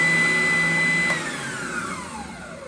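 A Wen spindle sander runs with a loud steady whining hum and high tonal motor whine, then the pitch drops as it spins down partway through.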